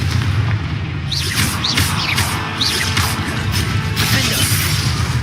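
Confringo spell blasts in Hogwarts Legacy, several sharp explosive bursts with whooshing flares and crashing impacts over a steady game background rumble.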